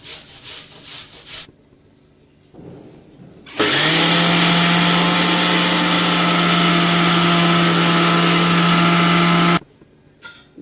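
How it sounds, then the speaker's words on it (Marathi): A kitchen mixer grinder grinds soaked, dried rice into fine flour for anarse, a loud steady whine and rumble running about six seconds alone after brief quieter handling noises, then cutting off abruptly. "आता तांदूळ पण मिक्सरवरती बारीक वाटून घ्यायचं आहे"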